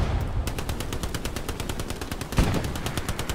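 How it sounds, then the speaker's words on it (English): Sustained machine-gun fire in a multiplayer military shooter match, a steady rapid stream of close shots running throughout with a heavier burst near the end. "that's the MG to your right, lads."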